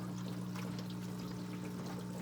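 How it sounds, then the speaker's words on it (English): Water runs steadily into a hydroponic drip system, a continuous soft pouring and trickling with a low hum underneath and no talk. "This is a drip system, so as you can see, the water starts dripping in."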